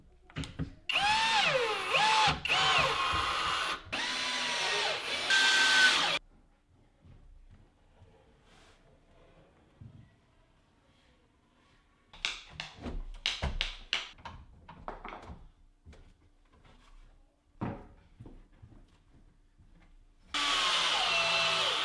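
A power drill bores pocket holes into cabinet face frames in loud, sustained whining bursts, one at the start and another at the end, with a stretch of clattering wood handling and taps in between.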